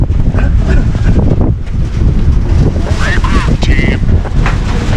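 Strong typhoon wind buffets and roars loudly across the microphone in Pangasinan, with a voice briefly audible under it.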